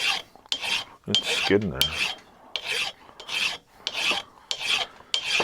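Metal filing on the body of a vintage Wilton No.4 bench vise, a rasping file stroke repeated about ten times in a steady back-and-forth rhythm, close and fairly loud, with brief spoken remarks among the strokes.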